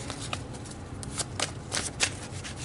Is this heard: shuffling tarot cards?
yes